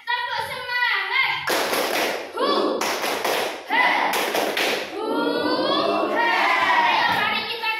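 A class of children repeats the 'tepuk semangat' spirit clap routine, with three loud bursts of unison hand claps interleaved with group chanting nearby.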